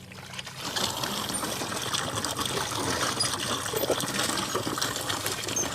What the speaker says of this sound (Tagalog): Ibuhos nyo po muna yan kasi may putik.